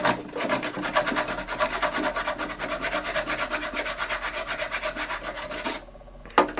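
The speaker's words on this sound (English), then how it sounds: "There's your nail holes completely sanded." Sanding filled nail holes on wood trim produces quick, rhythmic rasping strokes, close and steady, before a brief pause and a final scrape. No one speaks.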